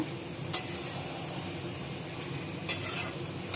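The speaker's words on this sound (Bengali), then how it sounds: "ফুল কচুরলতিগুলো দিয়ে দিয়েছি কড়াইতে। এবার ভালো করে একটু নাড়িয়ে নেব" Kochur loti, taro stolons, steamed beforehand, fry in a wok with a steady soft sizzle, while a spatula stirs them in two distinct scraping strokes over the continuous crackle.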